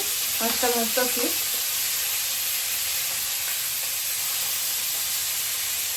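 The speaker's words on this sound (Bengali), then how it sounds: "এই যে মাছ ভাজা বসাই দিতে" Fish rubbed with turmeric and salt frying in oil in a pan, a loud continuous close sizzle with a brief voice-like murmur near the start.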